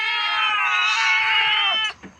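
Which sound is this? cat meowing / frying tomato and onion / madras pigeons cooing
cat meowing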